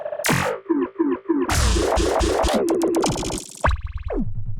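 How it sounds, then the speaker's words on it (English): Choppy, stuttering automatic loops from a warp mode repeat in quick bursts, jumping between fragments with abrupt glitchy cuts and pitch-shifting slides. "get some kind of automatic looping, which sounds very glitchy"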